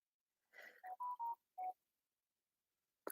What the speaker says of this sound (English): Just got a text message.